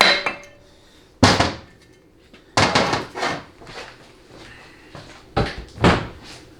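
A handful of sharp, heavy metallic strikes spaced irregularly, each ringing briefly before fading, with quiet gaps between blows, as a hammer knocks the extension housing off a TH350 transmission.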